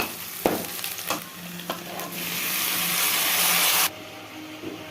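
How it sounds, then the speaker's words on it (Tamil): Tomatoes hit a hot pan for a Tamil dry fish curry, with a few spoon knocks before a loud sizzle that swells steadily for several seconds and then cuts off abruptly. "இப்போ நம்ம தக்காளி ஆட் பண்ணிக்கலாம்."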